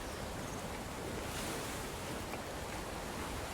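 Steady broadband wash of ocean waves and surf in the fantasy RPG Of Ash & Steel, a continuous even roar with no distinct breakers, alone without talk.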